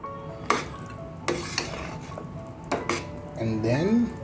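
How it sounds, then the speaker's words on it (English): Spoon stirring and scraping in a cooking pot of gosht beliram, a few distinct metallic clinks and scrapes spaced over a few seconds, close, with a faint simmer underneath and a brief voice-like sound near the end. "After we put that, we'll give it a nice stir"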